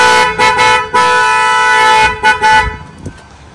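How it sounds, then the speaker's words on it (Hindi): A loud double car horn on a 2023 Grand Vitara Sigma honks in long sustained blasts, briefly breaking and resuming, then cutting off and fading into quiet road noise. "double horn"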